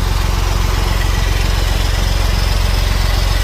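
Engine of a 2016 Freightliner Cascadia 125 truck idles, a loud, steady low rhythmic diesel throb with constant pulsing and no talk over it.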